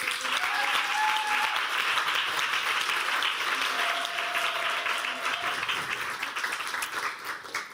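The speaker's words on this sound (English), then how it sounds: "Give an applause to Eva, please." Loud, sustained applause from a crowd, many hands clapping continuously before tapering slightly toward the end.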